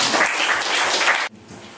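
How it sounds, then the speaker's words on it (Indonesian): Applause from the crowd at a school harvest event in Gunung Kidul, bright and close for just over a second, then cutting off abruptly to quiet room sound. "Tepuk tangan lagi."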